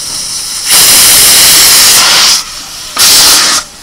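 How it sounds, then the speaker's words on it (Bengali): Pressure cooker whistle blasting loud steam while mutton paya cooks, two strong hissing bursts separated by a short quieter gap. "তার জায়গায় এখানে প্রায় 10-12টা সিটি পড়ে গেছে"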